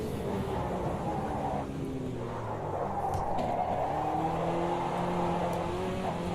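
Racing cars drive in a video game, giving a continuous droning engine roar at an even loudness throughout, with no speech.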